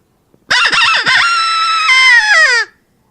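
A human voice imitates a rooster's crow, one loud, drawn-out cock-a-doodle-doo with a falling ending, close and alone.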